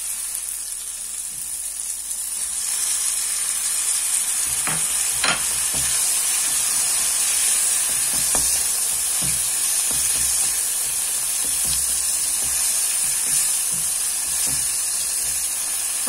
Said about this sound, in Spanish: Ya que tengamos también pochadito el pimiento, le vamos a agregar el tomate.